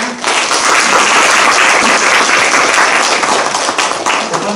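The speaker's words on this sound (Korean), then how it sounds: "큰 박수로 맞이해 주시기 바랍니다" A crowd at the opening of a mock trial over the Seoraksan cable car claps loudly and densely, a close, continuous burst of applause lasting a few seconds.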